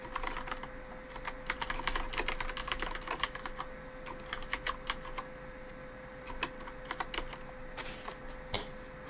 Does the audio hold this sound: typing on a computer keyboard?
yes